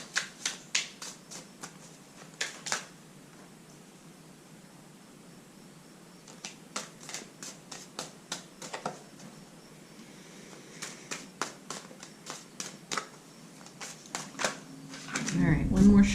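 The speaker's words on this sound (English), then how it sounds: "while I was shuffling these cards for the reading" Tarot cards are shuffled in short crisp bursts of riffling and snapping with quiet gaps between, ending in a louder rustle and handling close by.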